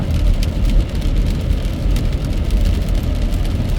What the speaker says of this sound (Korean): 빗물이 앞창 유리를 때리는 빗소리를 한번 들어보시면